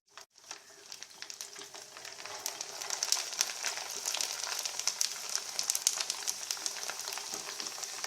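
Akki sandige, rice papad, dropped into hot oil, starting from near silence and swelling into a bright, crackling sizzle with dense popping bubbles that holds steady and close.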